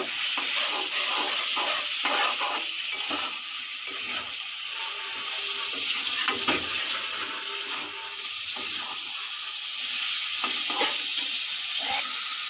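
Chicken kosha frying in a pan hisses in a steady, loud sizzle from start to finish, with scraping stirring strokes and small spatters mixed in and no talking.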